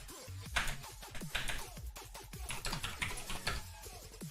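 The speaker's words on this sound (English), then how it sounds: "If I type in Elon Musk" Someone types a search on a computer keyboard, a quick irregular burst of close key clicks and clacks, with short pauses between runs, and no voices.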